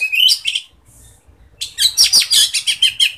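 A kacer (magpie robin) sunbathing in its cage sings bright, high chirps in a close burst, pauses briefly, then returns with a busy run of rapid tweets and calls.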